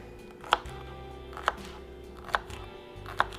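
A knife cutting celery stalks into quarter-inch slices on a board, four crisp, evenly spaced chops close up, each a quick snap over a low steady background hum.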